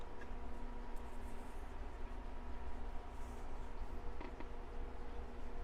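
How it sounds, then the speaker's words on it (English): A cooler runs steadily in the background of a craft workspace, a continuous low hum with faint tonal whine, moderately loud and unbroken, with occasional small handling clicks and no talk. "That's the cooler running."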